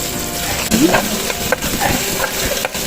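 White onion tipped onto lightly fried garlic in a pan outdoors, then stirred, brings a jump in sizzling followed by scraping spoon strokes and crackle, close and moderately loud.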